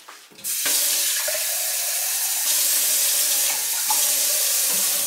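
Water gushes steadily from a tap, a broad continuous hiss with small splashing shifts, fairly close and with no talking.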